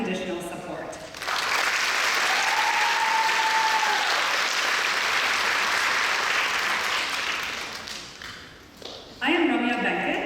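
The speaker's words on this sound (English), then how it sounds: "let's give a huge round of applause to all of the family and friends for their dedication and unconditional support." Loud, sustained applause from an audience honoring family and friends at a Kathak dance academy graduation event, steady for several seconds before fading, with a voice briefly heard at the start and end.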